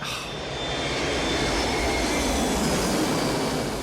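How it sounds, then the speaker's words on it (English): A landing airplane in the film Heat gives a broad, rising engine roar that grows louder and nearer, steady and unbroken with no voices. "And then a plane comes in to land."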